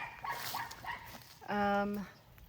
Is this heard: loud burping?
no